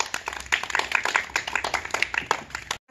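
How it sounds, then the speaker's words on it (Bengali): A small audience watching a water-drinking game claps for the contestants in a lively burst of distinct, close hand claps that runs for about three seconds and then cuts off. "তো সবাই তাদের জন্য একটা জোরে হাততালি দেন।"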